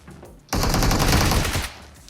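Automatic gunfire in PUBG Mobile: a loud, dense burst of rapid shots lasting just over a second, preceded and followed by quiet game ambience.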